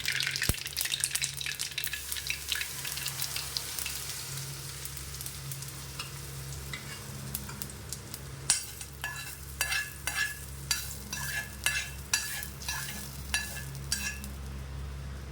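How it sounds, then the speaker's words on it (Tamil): Tempering spices spluttering in hot oil in a pan, a continuous hissy sizzle with a run of crisp popping crackles and stirring scrapes that grow more distinct toward the end. "நல்லா பொரிஞ்சிருச்சு."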